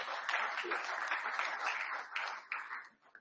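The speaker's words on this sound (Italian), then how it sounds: "Quindi facciamo un applauso anche a voi." Applause in a room at an Italian press conference greeting an Olympic athletes' delegation, a sustained patter of many hands that fades out at the end, fairly quiet and steady.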